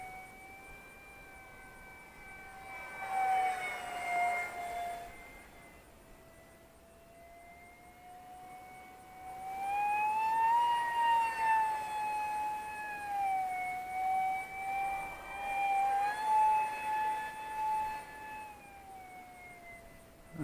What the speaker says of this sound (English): these 50mm EDF jets were just made for 4S LIPOs